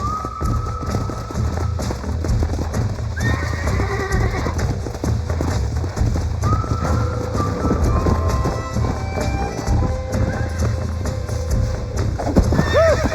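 A horse in the Western video game Red Dead Redemption whinnies repeatedly over constant clip-clopping hooves, with a steady low rumble of game sound underneath.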